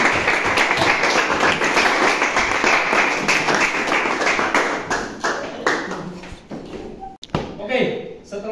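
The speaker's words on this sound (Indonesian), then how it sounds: "tepuk tangan buat semua yang sudah berkontribusi" A classroom of students claps together after group presentations, a dense patter of hand claps that runs steadily for several seconds and then thins out, with a voice talking over the end.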